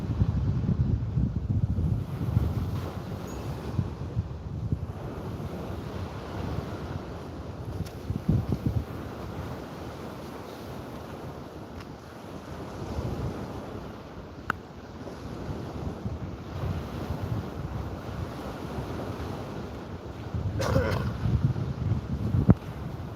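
Gusty wind buffets the microphone above choppy water, a steady low rushing roar with occasional stronger gusts and no voices.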